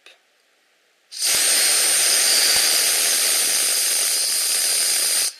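A homemade motor and dynamo rig starts after a second of near-silence and runs at a loud, steady high-pitched whine, holding constant to the end before cutting off abruptly.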